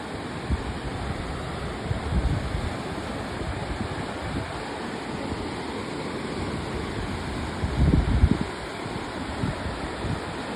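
Rushing river rapids roar steadily while rafting on a river in Columbus, Georgia, broadband water noise with wind buffeting the microphone and a louder surge near the end.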